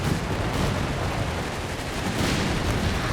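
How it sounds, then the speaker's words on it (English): Grenades launched and exploding in the Company of Heroes 3 strategy game battle, a dense steady clatter of gunfire and blasts at moderate loudness with no clear separate hits, and no talk audible. "Grenades have been launched."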